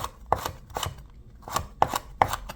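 A knife chops chili peppers on a cutting board for a Korean seafood and green onion pancake, giving five crisp, evenly spaced chops that sound close and clear with no talking.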